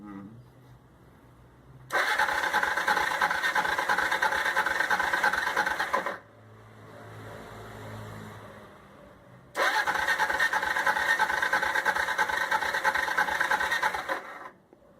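A motorcycle left sitting for four months cranks and catches, two long loud bursts of rough engine running separated by a quieter sputtering gap, close up with no talk.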